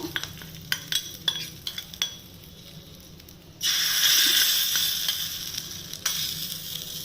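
Asafoetida and curry leaves hitting hot oil in a simple tomato chutney, a few stirring clinks and then a sudden loud, close sizzle that slowly fades, no talking.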